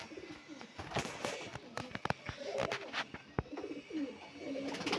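Red-eyed tumbler pigeons coo in a loft, soft repeated low calls layered with wing flaps and small clicks, busy and close, with a faint voice in the background.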